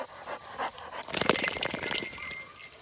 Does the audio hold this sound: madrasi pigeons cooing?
no